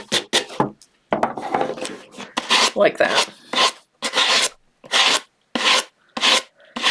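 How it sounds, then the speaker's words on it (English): A handheld sanding disc rasps along a paper edge to remove the excess, in a series of short, close scratchy strokes with brief gaps between them. "I'm going to remove the excess paper by sanding the edge"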